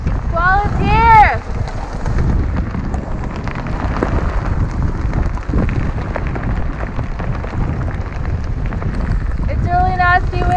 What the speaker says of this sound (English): Squall is here!